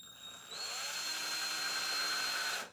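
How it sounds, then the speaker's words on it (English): A power drill turns a reamer through a tight plastic part for a TPU extruder mod on a Hictop Tenlog D3 3D printer, giving a steady, loud, close high-pitched whine that starts abruptly, holds for about two seconds and stops. "now I'm able to ream it"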